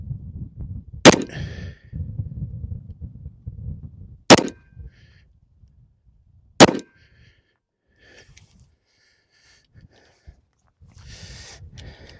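Three sharp, loud gunshots from a Colt Gold Cup Trophy .38 Super pistol firing reloads, spaced a few seconds apart, with low rustling and handling noise between them and faint ringing after.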